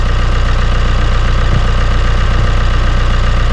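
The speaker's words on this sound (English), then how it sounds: "So here we are with the truck running." A 2016 Chevrolet Colorado 2.8L diesel with an exhaust leak idles close by, a steady loud rhythmic ticking clatter over a low, even engine drone.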